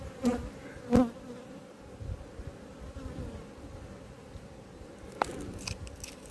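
A steady drone of honey bees hums around an apiary hive, close and continuous, with a couple of brief knocks near the start and a sharp click later.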